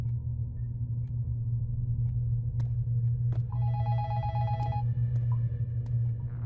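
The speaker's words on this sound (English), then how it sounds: "Shortly after reading that, we begin to hear a phone ring." A telephone rings in the Chinese horror game Incantation, a repeated bright electronic ring in short bursts over a steady low droning rumble, with a few faint clicks before it starts.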